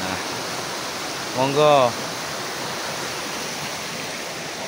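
A river stream rushes steadily beside a mountain trail at Puthuk Gragal, a broad continuous hiss of flowing water, with a short spoken word briefly heard over it.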